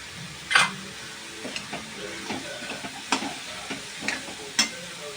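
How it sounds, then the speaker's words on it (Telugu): Potatoes and spices fry in a pan for a chicken, chana dal and potato curry, with a soft continuous sizzle broken by occasional sharp scrapes and clinks of stirring, close up, with no talking. "పొటాటోస్ కాస్త ఫ్రై అయింది కదా"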